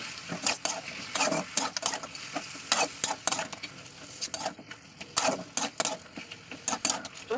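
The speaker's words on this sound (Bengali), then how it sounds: "আদা রসুনটা দেওয়ার পরে ভালো করে কষিয়ে নেবো।" Ginger and garlic being sautéed in a pan, with a spoon scraping and clattering in quick, uneven strokes over a soft background sizzle, close and fairly loud, with no talking.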